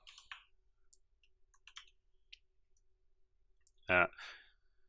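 A computer mouse clicks a few times while shift is held, sharp faint taps scattered across quiet, then a brief louder vocal burst near the end.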